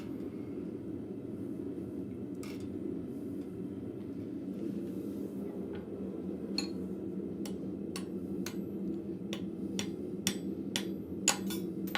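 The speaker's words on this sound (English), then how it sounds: "I forgot to flip my round peen, my rounding hammer over," A blacksmith's rounding hammer strikes metal in a forge, sparse at first and then a quick run of sharp, ringing blows toward the end over a steady low hum of shop noise.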